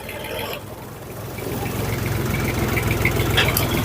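Jinma 244 tractor engine, a 2023 Luxe model, running steadily after a shift into third high gear, a low droning idle-like rumble that builds slightly in loudness, close and continuous with faint mechanical clatter.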